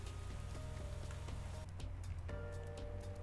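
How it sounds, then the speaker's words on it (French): Rain falls steadily in Pro Cycling Manager 2015, a dense, even patter that stays constant and moderately quiet throughout. "Et la pluie arrive et déjà un abandon"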